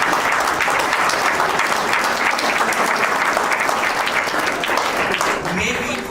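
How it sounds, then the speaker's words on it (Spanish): Loud, sustained applause from a large audience at a geopolitics talk for young people, dense steady clapping that runs for about six seconds and fades slightly at the end. "Aplaudan, siéntanse bien."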